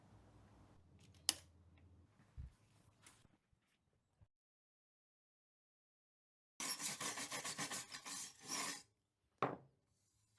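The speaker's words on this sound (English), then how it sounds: "what I'm doing there is wire brushing off the thin oxide layer on the aluminium" A wire brush scrubs the oxide layer off aluminium sheet-metal pieces before they are welded into a custom motorcycle swingarm: about two seconds of rapid, close rasping strokes after a quiet stretch, with a few scattered knocks before and a single scrape after.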